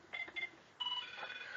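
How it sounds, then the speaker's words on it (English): A phone ringtone from the TV show 24 chirps in two short electronic pulses, then a longer sustained tone, close and moderately loud, with no talking. "that's the ringtone from the TV show 24."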